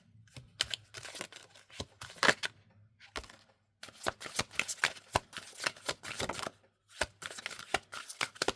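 Shaman oracle cards shuffled by hand close up, repeated rapid riffles and soft slaps in bursts separated by brief pauses.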